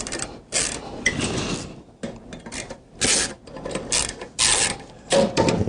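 Ratchet wrench with an 8mm socket loosening captive corner screws on a VLT FCD 302 decentral drive, heard as close, bursty rounds of mechanical clicking separated by short pauses, with no talking.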